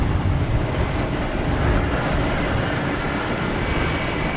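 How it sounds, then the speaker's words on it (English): An Embraer Phenom 300 jet taking off at an airport, a steady broadband engine roar heard from a distance for the whole span. "Next taking off, we have a Embraer Phenom 300."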